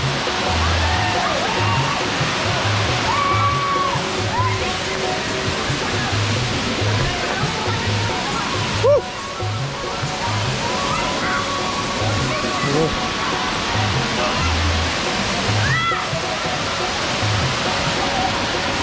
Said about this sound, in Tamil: தண்ணி வேறு லெவலில் போகுது.